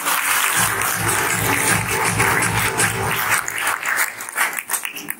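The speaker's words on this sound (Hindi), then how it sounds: "एक बार जोरदार अपने लिए, खुद के लिए ताली बजाइए" An audience at a business meeting in Chhattisgarh claps loudly, a dense steady wash of applause that thins and breaks up toward the end.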